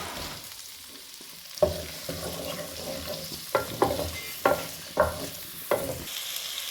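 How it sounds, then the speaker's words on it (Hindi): A large onion fries in leftover oil until golden, a soft steady sizzle broken by several sharp spoon stirs and scrapes against the pan. "ये प्याज है एक बड़े साइज की। इसको मैं थोड़ा सा करूंगी गोल्डन सा, हल्का सा"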